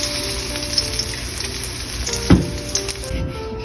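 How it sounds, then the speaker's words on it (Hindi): Chicken pieces fry in a pan for a restaurant-style stir-fry, giving a steady close sizzle with a short knock or scrape of a utensil near the middle and no voices. "इसी तरह सारी डाल के फ्राई कर लेंगे।"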